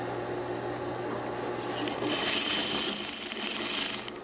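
A sewing machine back stitches a scarf seam with a steady whirring hum that grows a little louder and busier partway through, heard close up.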